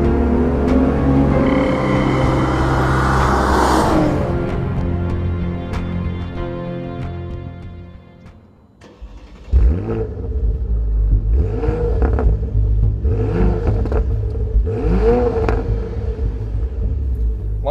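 A Porsche Panamera V6 launches in Sport Plus mode: a loud, close engine drone that dips briefly mid-run, then surges back with repeated rising revs as it accelerates hard, with no talking.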